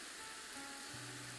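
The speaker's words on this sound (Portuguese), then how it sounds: "parece que está chovendo" Light rain falls steadily outdoors, a soft, continuous broadband patter with no distinct drops standing out, heard alone at low volume.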